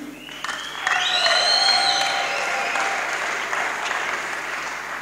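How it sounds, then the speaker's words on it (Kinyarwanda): A church congregation at a Sunday service applauds, with sustained, fairly loud clapping lasting several seconds and soft sustained musical tones underneath. "Tubaha amashyi cyane. Et on puisse applaudir."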